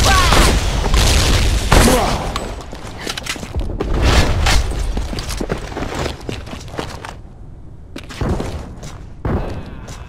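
Heavy booms from frag grenades going off in the online shooter M.A.R.S, several loud blasts spread across the span with thuds and gunfire between them, under in-game voice callouts.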